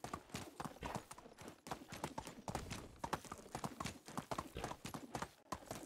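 Horse hooves clip-clopping in a steady rhythmic gait as a mount is ridden through the medieval countryside in the game Medieval Dynasty, fairly quiet and continuous with brief gaps.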